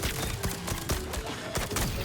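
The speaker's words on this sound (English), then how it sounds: "Gunfire inside of here." Gunfire inside a structure in a survival shooter video game, a quick cluster of sharp cracks and thuds in a short burst amid busy background noise.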